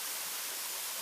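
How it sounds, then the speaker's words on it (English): Steady, even rush of water from the waterfall at Kemback, a continuous broadband roar with no talk over it. "There is the waterfall of Kemback."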